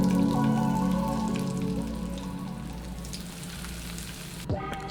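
Ribeye steak searing in hot butter oil, a steady, close crackling sizzle that carries throughout and eases slightly toward the end, with background tones and no talk.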